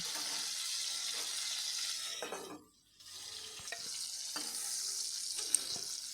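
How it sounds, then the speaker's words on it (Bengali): Vegetables fry in hot oil in a pan with a steady close sizzle, which dips briefly midway before resuming, broken by a few light clicks of stirring. "সবজিগুলো বেশ লাল লাল করেই ভাজা হয়ে গেল"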